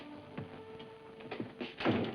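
A door opens from a boxing gym's locker room into the gym in a 1952 film, a short faint run of creaks and knocks with no talk.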